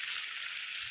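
Aire fish sautéing in a pan gives a steady hissing sizzle, close and continuous with no voices.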